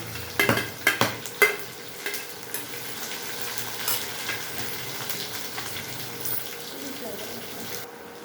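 Green peas, capsicum and onion sizzle and hiss in a hot pan, with a few sharp clattering drops at the start and occasional stirring scrapes, steady and close.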